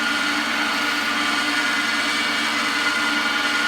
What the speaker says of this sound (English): We're using the bevel and we're just taking off a layer of wood.